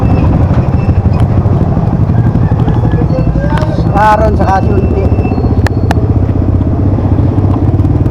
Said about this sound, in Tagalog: Dami namin tricycle dito.